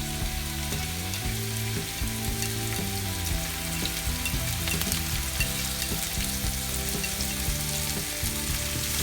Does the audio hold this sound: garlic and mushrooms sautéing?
yes